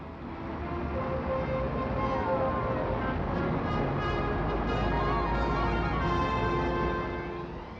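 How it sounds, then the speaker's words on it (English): Heavy motor traffic crawls along Oxford Street in London, heard as a dense, continuous roar of engines that swells and fades slightly, with no voices over it. "It's jam today and even more jam tomorrow as the traffic builds up."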